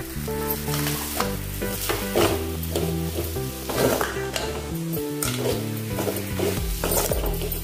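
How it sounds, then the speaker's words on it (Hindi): Kashmiri chili powder and spices frying in a pan for a spinach and pea dish, a steady sizzle with stirring scrapes running underneath loud background music. "अभी हमने थोड़ी देर इसको भून लिया है।"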